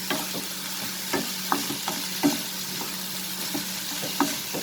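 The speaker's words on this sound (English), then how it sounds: "And now we are going to saute it together." Paneer stuffing sautéing in a pan over a medium flame: a steady low sizzle with scattered light scraping taps from stirring, close and continuous, no voices.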